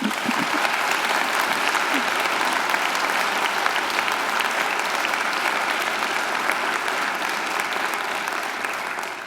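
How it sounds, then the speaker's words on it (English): A crowd applauds steadily and warmly, dense clapping that holds for several seconds before gradually tapering off. "I think she deserves another great round of applause"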